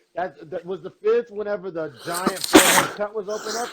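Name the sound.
a person sneezing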